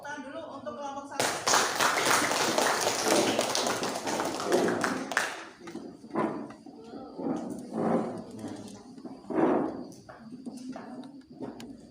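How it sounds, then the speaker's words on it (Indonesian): A classroom of students claps in applause for the first group presenting their work, a dense burst of hand claps lasting about four seconds, then fading into scattered taps and talking voices. "Tepuk tangan dulu untuk kelompok 1."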